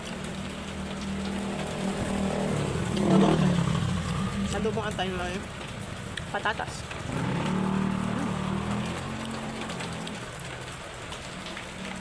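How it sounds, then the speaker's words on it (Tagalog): Heavy rain falls during a storm, a steady close hiss and patter that swells and eases, with a vehicle passing and a person speaking over it. "Lakas ng ulan. May bagyo pa rin."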